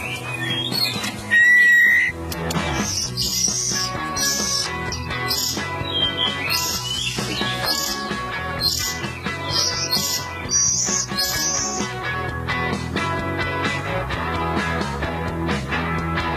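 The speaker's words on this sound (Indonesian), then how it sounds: "Nah, ini adalah anakan kacer." Oriental magpie-robin (kacer) chicks on a bird breeding farm chirp and whistle continuously, shrill high calls layered over a busy background of other birdsong, close and fairly loud throughout.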